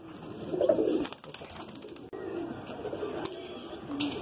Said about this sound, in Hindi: ये कबूतर अभी उड़ रहा है